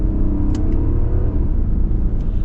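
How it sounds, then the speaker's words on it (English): Engine noise from a 2020 Genesis G90 5.0 Ultimate with its 5.0-litre V8 under acceleration in manual or sport mode: a steady, loud, low rumble that holds for about two seconds with no speech. "let's actually get our little acceleration here and see how that 5-liter V8 performs"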